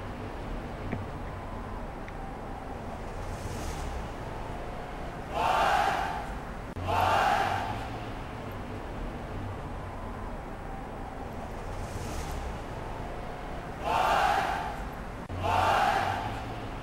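A wrestling arena crowd at a Smackdown event bursts into loud jeering chants aimed at Alberto Del Rio, coming in four swelling waves over a low, steady crowd murmur.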